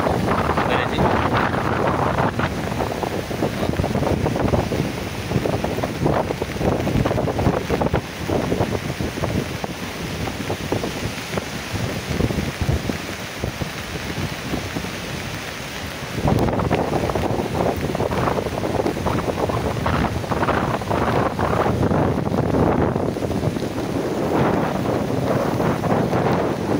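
The sea at high tide on the Mumbai shore, in wind and rain, makes a continuous heavy roar. Strong gusts buffet the microphone and sharply raise the level in the second half.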